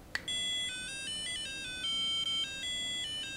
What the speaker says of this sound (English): Andy Jackson's Tetris, which he's added very nice, well, the Tetris jingle and some very nice extra sounds